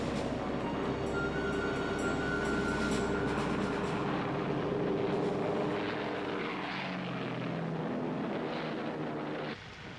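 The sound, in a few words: WWII four-engine RAF bombers flying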